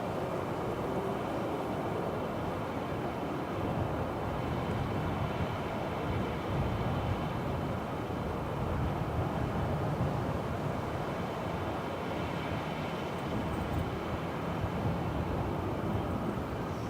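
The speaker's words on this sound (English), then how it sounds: "Departing now is Ryanair 553 to Dublin 9HQBC" Ryanair Boeing 737-800 departing Manchester Airport on a windy day, a steady distant jet roar with wind rumble, moderate and unbroken, no talk.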